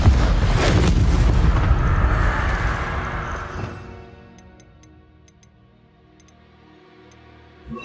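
Confringo fire blast spell in Hogwarts Legacy: a loud roaring burst of fiery explosion that sustains for a few seconds, then decays into a fading rumble with faint ticking, ending in a small thump.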